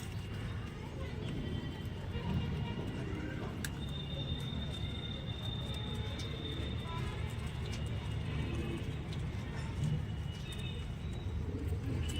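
A newly paired male and female pigeon coo softly in a low, continuous murmur, with faint brief chirps and rustles over steady background noise.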